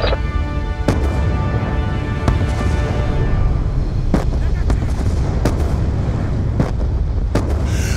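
Mortar fire in Call of Duty Black Ops 2 pounds over a constant low rumble, with a string of sharp blasts landing at irregular intervals, some near and heavy, others more distant.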